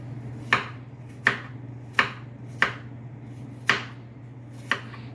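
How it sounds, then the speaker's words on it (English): A knife chops apples into little pieces on a board, six crisp evenly spaced knocks over a low steady kitchen hum. "Chopping them in little pieces. Yeah, getting some apple slicing action."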